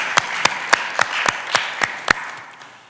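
A handful of sharp claps, about eight, spaced evenly and unhurried, ringing out fairly close in a room with a low hum behind them.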